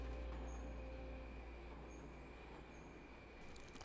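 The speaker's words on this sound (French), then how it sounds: "Ce métro a été inauguré en 1977 sous l'époque soviétique" A Soviet-era metro train in Uzbekistan, opened in 1977, rumbles steadily with a low continuous drone and faint high whine, sustained and fairly quiet throughout.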